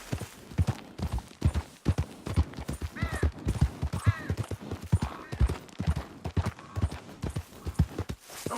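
Horse hooves gallop in Red Dead Redemption 2, a fast, steady clip-clop rhythm of close, loud hoofbeats that runs throughout.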